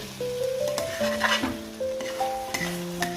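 A spoon stirs a cooked tomato mixture for chicken biryani in a sizzling pan, with scraping and gentle frying hiss over steady background music.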